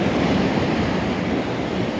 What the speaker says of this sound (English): I just wish this wind would settle a little bit.